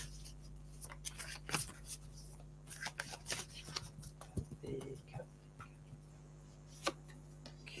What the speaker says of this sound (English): I'm just going to pick from the Work Your Light card, Kathy.